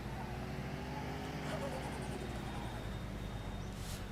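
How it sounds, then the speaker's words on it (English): Turbo whoosh and engine drone from a car in The Long Drive driving game, a steady loud hum with rising whistles throughout. "We've at least got turbo noises."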